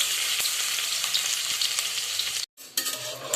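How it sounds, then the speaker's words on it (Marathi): Curry leaves and onion frying in oil in a pan, a loud, close, steady crackling sizzle with a few stirring scrapes that cuts out briefly near the end, then resumes. "त्यात आता आपण कढीपत्ता घालून घेऊया फक्त घातल्यानंतर आपण त्यात कांदा टाकून घेऊया"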